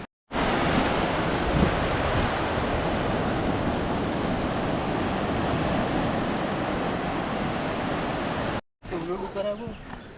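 Ocean waves wash steadily onto a long white sand beach on the Konkan coast, a loud, continuous roaring surf for about eight seconds before cutting out, followed by brief talking.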